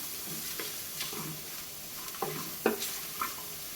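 Chopped capsicum and onions sautéed and stirred in a pan, several distinct spatula scrapes and taps over a faint, quiet background sizzle.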